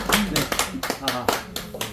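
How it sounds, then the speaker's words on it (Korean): Several people clap in a lecture room during a Korean ChatGPT news-writing class, with sharp hand claps in a loose, uneven rhythm close by, mixed with speech. "박수 한번 해드리겠습니다"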